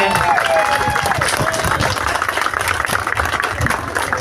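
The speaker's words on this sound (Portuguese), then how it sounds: "aplausos por essa obra extraordinária" A crowd applauds at a street inauguration attended by a vice-governor, dense continuous clapping that stays loud and steady from start to finish, with voices mixed in among the applause.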